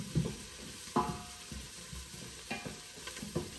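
Onions sauté in a pan and sizzle softly and continuously, while a utensil stirs and scrapes every half second to a second underneath; no one speaks.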